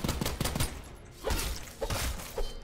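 Rapid gunfire from a magazine being emptied in the video game SULFUR, heard as several quick bursts of shots with short pauses between them, fairly loud and with no talking.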